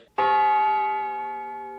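A single bell struck once, sharp attack followed by a long, clear ringing tone that slowly fades.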